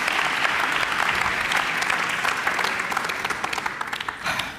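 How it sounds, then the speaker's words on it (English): Loud, sustained applause from a large audience in a main hall at a tech innovation semi-final event, dense clapping filling the whole stretch and tapering slightly toward the end. "Give yourselves a round of applause."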